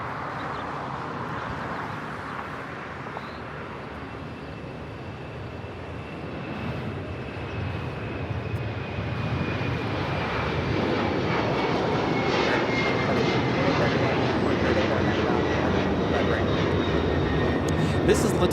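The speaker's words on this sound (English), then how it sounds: "2479 taking off to Lima, Peru on the 767-300ER" A LATAM Airlines Boeing 767-300ER takes off at Los Angeles airport bound for Lima, a broad engine roar that swells steadily over the run and stays loud, with voices talking over it.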